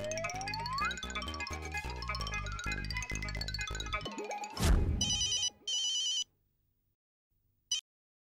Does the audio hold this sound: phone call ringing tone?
yes